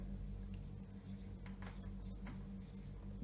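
A pen scratches across paper in short, uneven strokes, writing out a project name by hand, with a steady low hum behind it.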